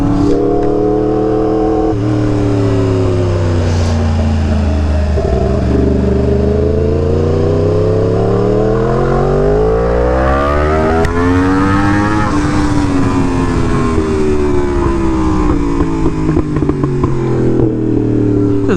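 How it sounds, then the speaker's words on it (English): A Yamaha R1M sport motorcycle engine pulls hard and loud up through the revs, the pitch climbing, dipping and climbing again across repeated throttle pulls, with no talking over it. "I just gotta be careful and be very gentle with the throttle on this bike."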